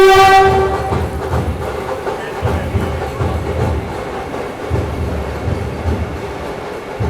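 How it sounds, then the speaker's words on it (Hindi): Vande Bharat Express train on its inaugural Mumbai to Goa run moving along a platform, with a brief horn at the start then a loud, steady rumble and rhythmic wheel clatter nearby. "पहले वंदे भारत एक्सप्रेस आगे आएगी, फिर हम बोर्ड करेंगे, और फिर चलेगी।"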